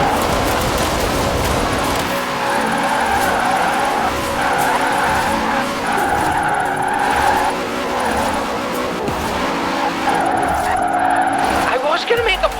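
A Holden car spinning doughnuts in Forza Horizon 4, on Fortune Island: tires squeal and skid continuously under a steady, loud engine drone, close up throughout.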